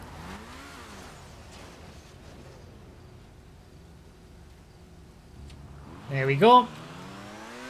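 A supercar in GTA 5 accelerates away at a race start, its engine rising in a loud, sweeping rev toward the end after a quiet stretch, with someone speaking briefly.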